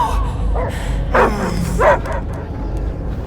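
Dog barking in the Marvel's Guardians of the Galaxy video game, two or three close, short yipping barks with a whimpering tone over faint background ambience.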